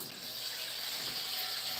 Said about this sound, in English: I'm just gonna throw some water in and move on.